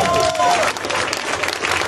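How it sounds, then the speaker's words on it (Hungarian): A crowd applauds at an outdoor speech on a bridge during a March 15 commemoration in Hungary. Dense, loud clapping runs throughout, with a voice briefly speaking over the start. "Egy bátor hölgy, Baranyi Krisztina, nagy tapsot neki!"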